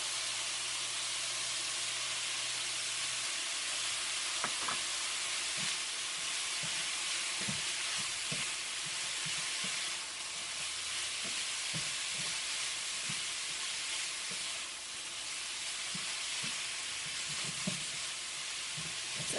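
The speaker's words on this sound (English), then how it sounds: "then we're going to add our carrots right into this" Pork and carrot stir-fry sizzling hard in a hot pan, a steady close hiss broken by soft clinks and scrapes of stirring, with no voices.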